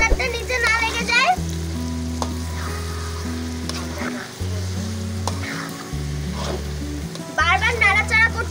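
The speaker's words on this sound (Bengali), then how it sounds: "বারবার নাড়াচাড়া করতে হবে।" A thick, sticky date and tamarind pickle sizzles in a pan while being stirred, with a steady close frying hiss broken by scraping strokes and intermittent talk over it.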